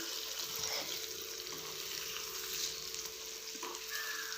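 An egg fries in oil in a pan, giving a steady, close, broadband sizzle with light crackling that runs the whole way through without a break.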